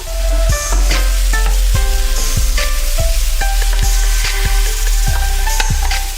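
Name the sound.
pan-fried beef added to stir-fried vegetables in hot pan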